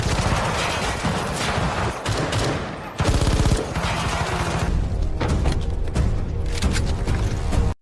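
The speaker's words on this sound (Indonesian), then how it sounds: "Di sana, baku tembak pun tak terhindarkan." Sustained gunfire in a gunfight, dense bursts of rapid automatic shots and heavy booms filling the whole stretch, loud and close, with a brief dip before another barrage.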